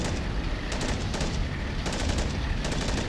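A quad .50 machine gun in Battle of Empires: Vietnam hammers out a loud, unbroken burst of rapid heavy fire, dense booming shots with no pauses.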